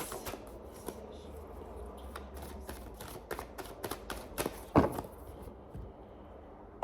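A deck of tarot cards being cut and handled on a table, with soft papery flicks and taps scattered through a quiet room, one sharper card slap near the end.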